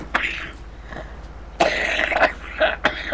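A few rough, raspy coughs and throat clearings, close and fairly quiet, separated by short pauses.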